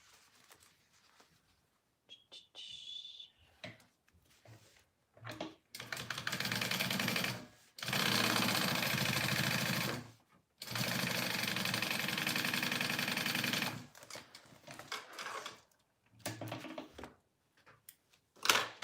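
Sewing machine stitching fabric for an H2O 2GO water bottle sling, running in several loud, steady mechanical bursts of a few seconds each, separated by short pauses and faint handling sounds.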